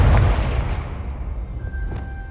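A Confringo explosion spell from Hogwarts Legacy bursts loudly up close, a deep boom that rolls off into a fading rumble with faint ringing tones.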